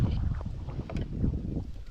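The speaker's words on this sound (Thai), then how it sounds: "ลมแรงมากเลยครับ" Strong wind gusts across open water at a fishing spot, a low, buffeting rumble that blasts the microphone continuously and stays fairly loud throughout.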